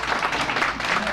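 An audience claps steadily during a talk at a senior living presentation in Viera, Brevard County, a dense, even patter of many hands, fairly close, with no break.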